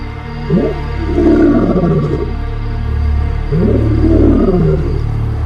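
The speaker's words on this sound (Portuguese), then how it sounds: "Nunca tinha ouvido nenhum outro leão rugir igual Maculo." Maculo, a male Mapogo lion, roars in two deep, drawn-out bursts over a low, steady rumble of wind or engine noise, each roar rising and then grunting down, carrying strongly across open bush.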